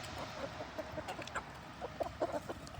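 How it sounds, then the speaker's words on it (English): A rooster on a backyard chicken farm clucks in short, irregular bursts close by, over a steady outdoor hiss with no talking. "big old rooster."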